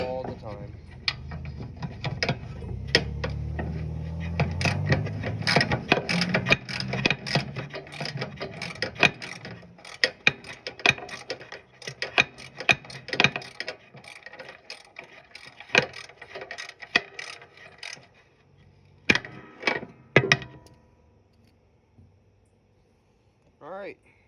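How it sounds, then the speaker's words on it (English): A ratchet wrench clicks in quick bursts while an engine is installed, the ratcheting and metallic clatter coming in irregular runs nearby before tapering to sparse taps and near silence. "Ratchet slid off, no big deal"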